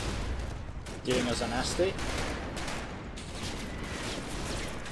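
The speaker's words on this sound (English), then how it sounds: "we're starting to get that fire from the Bren team there" Bren light machine gun fire in the Combat Mission World War II game, faint bursts of gunfire under a steady din of battle noise, with someone speaking briefly over it.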